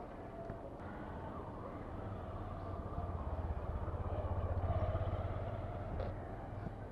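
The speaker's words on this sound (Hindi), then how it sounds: "स्कूटर भी अपनी वार्म हो गई है।" A Yamaha Fascino scooter engine runs steadily after warming up, a low continuous hum with some road or wind noise, fairly close and unbroken throughout, with no talking.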